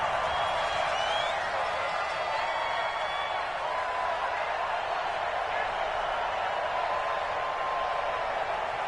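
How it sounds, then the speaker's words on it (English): Steady roar of a stadium crowd at an indoor football game in the Dome, a continuous loud wash of many voices and cheering with no breaks, heard on its own. "The crowd here in the Dome making things difficult."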